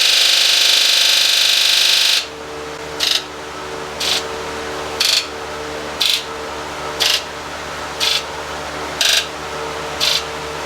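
Injector buzz test on a Ford 7.3 diesel engine in an Econoline van: after a loud steady hiss stops, the injectors buzz in short, evenly spaced bursts about once per second, close and clear.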